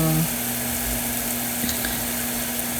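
Steady sizzling of pork chops browning in a hot frying pan, a constant crackling hiss with a low electrical hum underneath and no talking.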